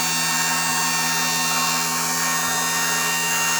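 The pump motor of a lathe power pack, mounted with its tank on an Atlas 3996 lathe, runs with a steady, loud electric whine and layered hum that holds constant from start to finish.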